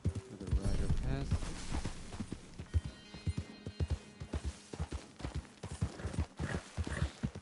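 Hooves of a passing rider's horse in Red Dead Redemption 2, a steady clip-clop trotting rhythm at moderate distance that swells and fades over several seconds, heard alone.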